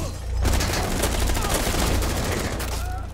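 Automatic gunfire in the video game Rainbow Six Siege, a dense, continuous, loud stream of shots lasting several seconds, with faint voices underneath.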